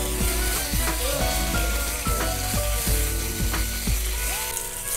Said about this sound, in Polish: Patelnia jest już gorąca, więc przekładam boczek, ale zaczął od razu skwierczeć.